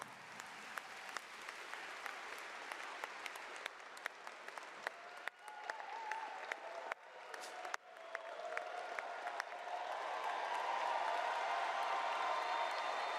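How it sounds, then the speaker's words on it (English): A seated audience gives the Clair Obscur team sustained, dense applause at an awards ceremony as the trophy is held up, with scattered sharp claps standing out and the ovation swelling louder toward the end. "The Clair Obscur team in the audience stands and continues applauding."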